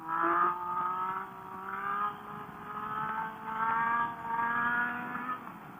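Motorcycle engine revving repeatedly while riding wheelies down a road, rising and falling whines in several surges, moderately loud and without speech.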